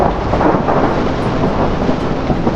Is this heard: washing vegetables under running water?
no